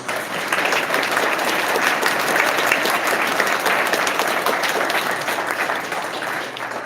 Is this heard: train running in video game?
no